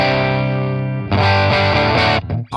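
Electric guitar played through a Line 6 Helix blended amp preset with dual IR, loud and distorted: a sustained chord rings out, then a run of chunky, crunchy strums cuts off sharply near the end.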